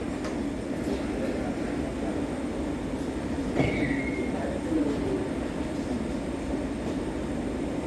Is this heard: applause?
no